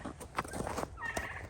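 Farm birds, turkeys, gobbling and calling in a snowy yard before feeding, several short rough gobbles close by and fairly quiet, with no talk over them.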